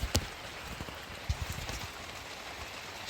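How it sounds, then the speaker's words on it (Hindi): Rain falling steadily on a wet mountain trek campsite, a soft even hiss with scattered nearby drops tapping on surfaces, fairly faint and continuous with no voices. "बारिश अभी तक नहीं रुकी"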